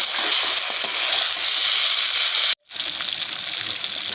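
Potatoes and pointed gourd fry in a pan for a fish curry while being stirred, giving a loud, steady sizzle with scraping stirs, broken by one brief silent gap before the frying resumes.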